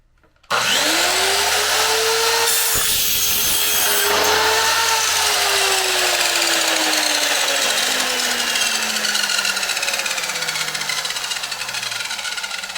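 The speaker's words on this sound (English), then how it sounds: "The miter saw is used here to make an easy and quick square cut on the ABS pipe." A miter saw slices through ABS plastic pipe for a square cut, a loud steady whining cut starting abruptly after a moment of quiet and running continuously, with the blade pitch sagging slowly as it bites through.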